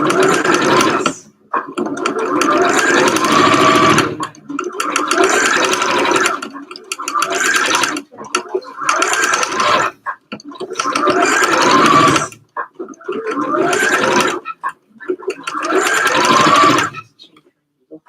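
An overlocker sewing machine runs in repeated loud bursts of stitching, each a few seconds long, separated by short pauses as the fabric is fed through.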